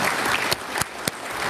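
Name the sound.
applause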